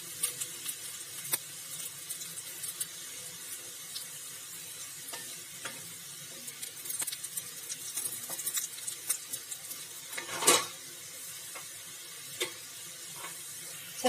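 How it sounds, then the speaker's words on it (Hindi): Garlic frying in hot mustard oil, a quiet continuous sizzle with scattered crackles and occasional sharp stirring clicks, one louder burst of spattering near the end of the stretch. "लहसुन को भी गोल्डन ब्राउन होने तक पकाएंगे"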